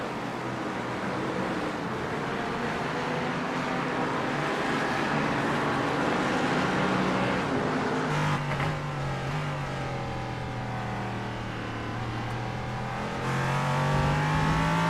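A race car engine roars continuously in an iRacing endurance race at Barcelona, loud and close, with revs climbing and dropping through gear changes.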